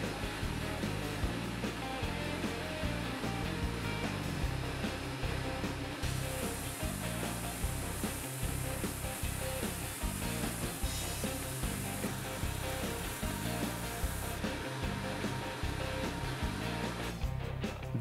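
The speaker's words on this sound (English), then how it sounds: "The layers of the plywood allow me to see if the thickness sander is working properly" A lathe-driven thickness sander working on plywood, giving a steady loud whirring drone with a rhythmic pulsing roughness and a hiss that rises partway through, with no speech.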